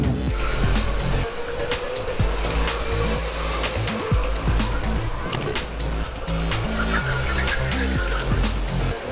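Go-karts race on a kart track, with several buzzing kart engines climbing and falling in pitch as they pass through the corners. Sharp clicks and rattles sound over a constant loud, close engine din.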